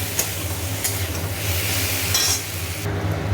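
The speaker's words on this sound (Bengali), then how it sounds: "এবার আদা বাটা দিয়ে ভালো করে একটু আদার কাঁচা গন্ধটা ছেড়ে যাবে" Ginger paste frying in oil in a pan, a steady loud sizzle close up with a spatula scraping and stirring through it, no talk.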